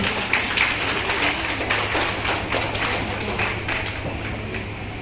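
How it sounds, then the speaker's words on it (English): Schoolchildren clapping for prize winners at a school ceremony, a dense, uneven patter of small hands in a hall, moderately loud and fading slightly toward the end. "Children, please clap and encourage your friends."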